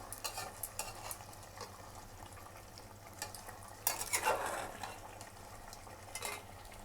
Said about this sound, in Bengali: এবার ভালো করে মিশিয়ে নিচ্ছি